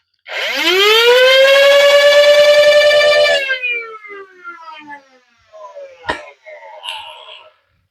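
A Vector Pro flywheel toy blaster spins up with a loud rising whine that holds steady for about three seconds, then winds down, followed by a few faint clicks and small mechanical noises.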